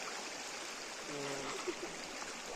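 A hill stream in Sindhuli, Nepal flows with a steady, moderate rushing murmur, heard alone and fairly faint, with a brief tonal chirp in the middle.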